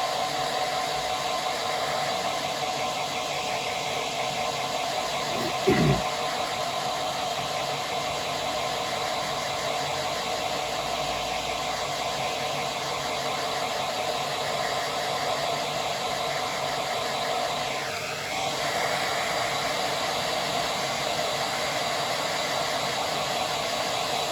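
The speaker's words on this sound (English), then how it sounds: "shall I whack it with hairdryer? Let's whack it with hairdryer" Constant whirring blow of a hair dryer running close by to dry paint, steady throughout with a brief thump partway in.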